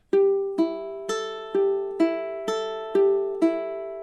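A bright plucked ukulele arpeggio from a fingerpicking etude repeats in even time, about eight notes ringing into each other, played alone and close.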